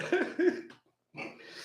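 Two sharp, close coughs in quick succession, then a brief silence before more noisy vocal sound follows.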